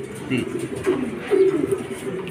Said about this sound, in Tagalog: Yan, tatlo na mga kalapatids